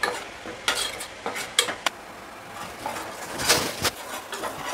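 Curry leaves and turmeric powder sautéing in oil, a soft sizzle broken by repeated utensil scrapes and clinks against the pan, close and irregular.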